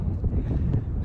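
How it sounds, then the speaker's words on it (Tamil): Steady outdoor wind buffeting in Bellever forest, Devon, a low rumbling gusty noise that stays fairly loud throughout the short stretch. "தண்ணி நல்லா ஜில்லுன்னு காற்று அடிச்சுக்கிட்டு இருக்கு"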